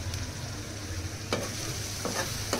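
Masala mixture frying in oil in a pan for a fresh cashew curry, a continuous close sizzle with a few sharp stirring scrapes, steady and moderately loud.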